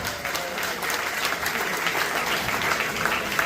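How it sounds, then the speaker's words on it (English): Audience clapping at an Onam celebration in a housing community, a brisk, moderately loud ovation with scattered individual claps standing out, continuous for the whole span. "Can we have a round of applause for that?"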